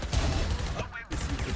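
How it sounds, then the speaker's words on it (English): Gunfire from a Valorant match in a collegiate esports game, a short burst of rapid shots that is briefly loud and blends with game sounds and background noise. "Ooh, gunshots happening."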